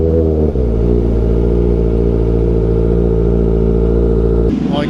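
Kawasaki ZX4RR motorcycles idle and rev at a track day, a loud, steady multi-cylinder engine drone that cuts off near the end as another engine note takes over.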